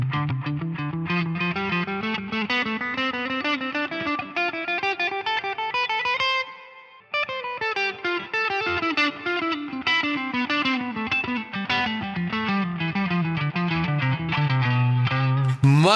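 A distorted electric guitar plays a continuous blues lick sequence, fast stepping scale runs climbing steadily upward, with a brief gap midway before the runs resume and end on a held note; loud and close with no talking.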